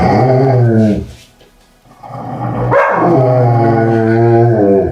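Two dogs growl and bark at each other at very close range, with loud continuous snarling, a brief lull, then renewed rough growls.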